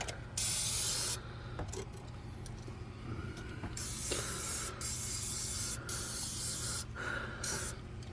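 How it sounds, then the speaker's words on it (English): Continuous hiss of a spray gun painting a 1970s Trans Am car in a workshop, a steady loud spray with a few brief interruptions and small mechanical clicks, no voices. "Spray the living shit out of everything."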